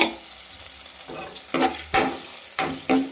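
Palak paneer mixture stirred in a pan until it browns, a low sizzle under a few firm scraping strokes that come in a loose rhythm toward the end, close by, with no talking.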